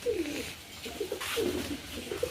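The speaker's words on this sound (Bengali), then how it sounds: "এই নর পায়রাটাকে দেখো" A male Kalanka pigeon coos close by in a run of soft, throaty low calls with brief pauses, repeated across the moment with faint background noise.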